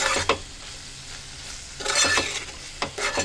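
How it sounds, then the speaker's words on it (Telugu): A spoon stirs cabbage curry in a pan over a soft sizzle, with three short scraping bursts against the metal and quieter frying in between. "మంచిగా కలుపుకుందాం."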